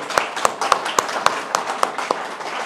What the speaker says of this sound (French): On peut applaudir ça quand même.